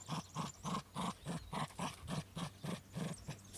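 A dog growls while playing, a rhythmic series of about a dozen rough, throaty pulses at an even pace, close but fairly quiet.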